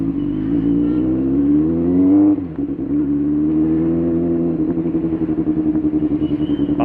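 A Benelli 600i superbike's engine roars loud and close through its exhaust, holding a steady high drone that dips briefly midway before rising again into a throbbing, pulsing rev.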